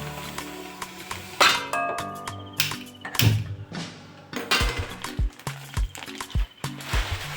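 Corn flour roasting in a pan while being stirred, a run of irregular clattering scrapes and metallic clinks of the spoon against the pan, fairly close and busy throughout.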